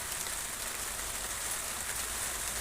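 Heavy hail falling outdoors in a thick, steady, dense hiss of countless tiny impacts, loud and unbroken throughout with no voices.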